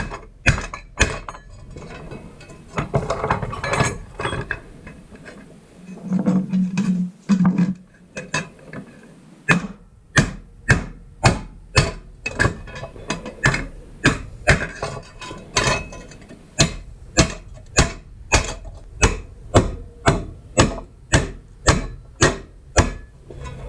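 Small ball peen hammer striking a steel lawnmower deck to bend it, a long series of sharp metallic blows that settle into a steady rhythm after a quieter scraping start, close and loud with no talk.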